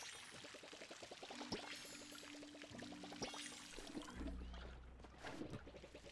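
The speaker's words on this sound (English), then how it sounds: "I have ye copper watering can that, can water up to 5 things at once." Copper watering can pouring water in the video game Palia, a faint, soft trickle running under quiet, gentle in-game music tones.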